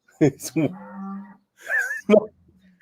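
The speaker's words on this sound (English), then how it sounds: "You hear the cow?" A cow lows in a Ukrainian village street, two drawn-out moos close by, one long and steady and a shorter one after a pause, with brief bits of breath or voice around them.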